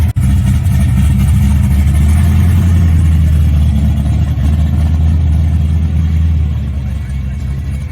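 A 1955 Chevy engine idles loudly and steadily nearby, a deep throbbing rumble that holds constant throughout.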